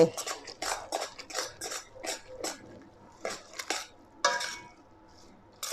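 Spaghetti carbonara is stirred in a pan with a utensil, making irregular scraping clinks and soft squishy scrapes in short bursts, with a quiet voice now and then.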